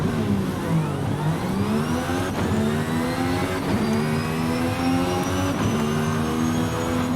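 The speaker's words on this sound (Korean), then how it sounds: "이게 들어보시면은 전기 모터랑 엔진 소리랑 동시에 다 들려요" A Mercedes-AMG ONE hybrid hypercar in Forza Horizon 5, its engine and electric motor whining together as it accelerates, with pitch climbing in repeated sweeps between gear changes, loud and steady without any talk.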